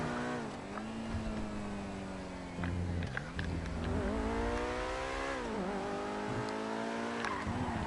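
An Obey 10F car engine in the GTA Online video game revs and drones steadily, its pitch rising and falling through gear shifts, loud and continuous, with a faint tire squeal partway through.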